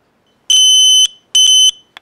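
A homemade clothespin alarm circuit's battery-powered buzzer sounds in two loud, shrill bursts of roughly half a second each, then a short faint chirp, against silence.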